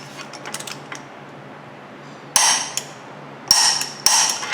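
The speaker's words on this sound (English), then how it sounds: "Tighten up the axle nut." Axle nut being tightened on a Buick Enclave during a wheel bearing job, heard as short bursts of metallic ratcheting and clanking tool noise after a quiet stretch, close and fairly loud.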